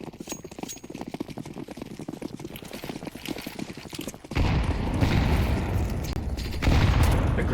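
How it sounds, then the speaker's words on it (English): Rapid clattering impacts in Counter-Strike give way to a sudden, sustained roar of explosions as a grenade stack detonates at bottom mid, loud and dense, with a second surge near the end. "A lot of grenades go bottom mid."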